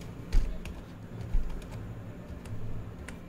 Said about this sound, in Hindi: टाइप करो कीबोर्ड से मोबाइल